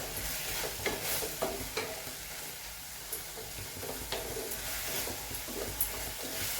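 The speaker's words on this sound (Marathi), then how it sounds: "एक दोन मिनिट आपण भाजी परतत आहोत" Papdi beans sizzle steadily in a hot pan while being stirred, a close, continuous crackling hiss broken by regular scraping strokes of the spoon.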